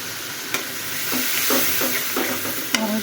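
Spices with ginger-garlic paste, chili powder and cumin paste being sautéed in a pan, a steady close sizzle broken by a few sharp clinks and scraping stirs.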